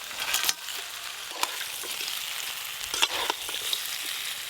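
Fried fish head from a large pangas fish going into a pan of spices with fried potato and jackfruit, sizzling steadily throughout with a few sharp clatters and stirring scrapes up close.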